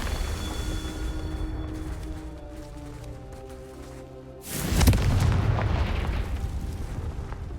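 A Confringo blasting spell from Hogwarts Legacy bursts loudly midway through, a sudden booming explosion that rises out of a quieter background hum and rumbles on with a dense, roaring tail.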